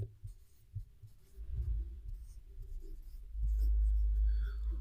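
Chalk or marker writing on a classroom board during a Hindi grammar lesson, a soft scratchy scraping that grows louder and steadier over a low rumbling background, with no voices.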